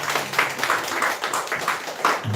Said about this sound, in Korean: 이렇게 박수 영광 돌리겠습니다